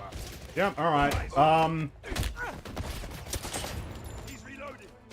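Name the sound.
grenade and gunfire in video game 007 First Light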